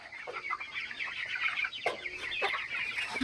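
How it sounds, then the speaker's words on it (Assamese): Broiler chickens kept on a small farm cluck and chatter continuously at close range, with a few sharper calls rising over the steady flock noise. "আৰু হিপালে পুহিছো ব্ৰইলাৰ"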